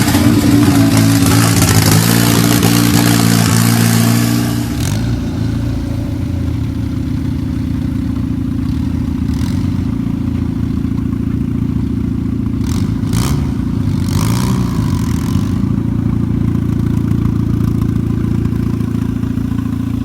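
Mazdaspeed 3 engine cold-starting, with a loud broadband burst in the first five seconds settling into a steady, close idle drone for the rest of the clip; no talking.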